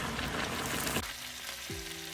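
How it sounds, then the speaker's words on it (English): Steady, loud sizzling of pork frying in a hot pan, a bright crackling hiss that continues throughout, with a brief clatter partway through. "I'm already putting them inside the frying pan."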